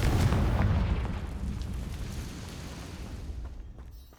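A Confringo blast spell going off in a video game, a deep rumbling explosion that booms at once and rolls off slowly over a few seconds, loud and alone.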